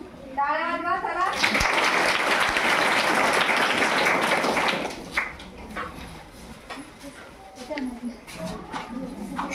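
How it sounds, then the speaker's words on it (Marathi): A room of people in a hygiene program session bursts into loud, sustained group applause lasting about three seconds, then fades into scattered claps and murmured voices. "टाळ्या वाजवा चला"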